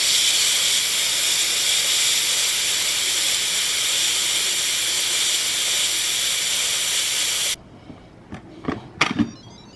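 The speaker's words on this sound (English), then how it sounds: "released the steam, the natural steam" An Instant Pot's pressure release vents steam from a batch of hard-boiled eggs in a loud, steady, close hiss that cuts off abruptly near the end, followed by a few faint clunks and rattles.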